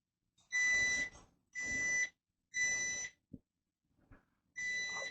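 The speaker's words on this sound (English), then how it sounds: "as you can hear, the timer is going off" An air fryer timer beeps four times in a steady rhythm, loud, shrill and close, with short gaps and a couple of faint clicks between.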